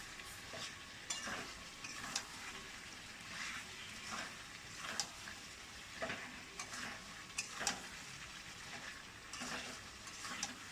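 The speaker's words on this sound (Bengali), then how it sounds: "মশলাটা দিয়ে আমি ভালো করে চিকেনটাকে কষে নেবো" Steady sizzling with repeated scraping and stirring strokes in a pan as chicken is stir-fried with spices; a continuous crackle runs underneath throughout.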